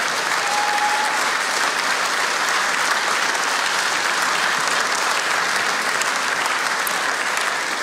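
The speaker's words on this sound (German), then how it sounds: "Unser Publikum begrüßt euch jetzt mit diesem Applaus." A TV studio audience at a Schlager show applauds in a loud, dense, unbroken wash of clapping that holds evenly throughout.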